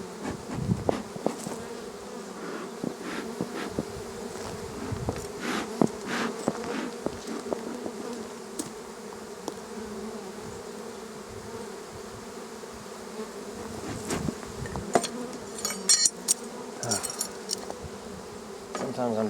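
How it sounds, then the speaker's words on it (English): Honeybees swarm and buzz loudly and continuously around an opened hive during an inspection, a dense insect hum with occasional sharper passes close by and faint background clicks. "They're buzzing like they don't have a queen."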